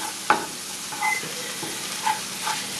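Bitter melon and eggs stir-fried in a pan that shifts and scrapes on the burner, with a steady low sizzle and a few short clinks and scrapes spread across the moment.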